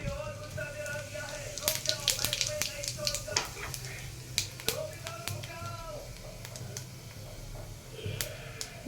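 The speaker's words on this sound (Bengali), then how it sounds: "তেল গরম হয়ে গেছে, আমি জিরেটা দিয়ে দেবো।" Cumin seeds hitting hot oil for a carrot and pea sabzi fizz and crackle steadily, with scattered sharp pops over a low background hiss, and faint talk from the cook underneath.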